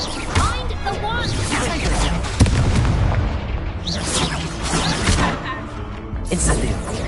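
Spells fired in the game Hogwarts Legacy, including the Incendio fire spell, burst out as booming, crackling blasts amid continuous combat effects, with a voice talking over the clamor.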